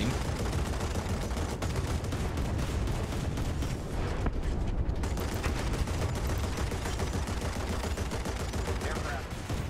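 Heavy naval guns firing in the War Thunder video game during a battle between big warships, a dense, continuous barrage of booming shots and blasts filling the whole stretch at steady loud volume.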